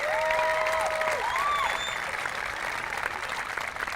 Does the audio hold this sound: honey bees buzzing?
no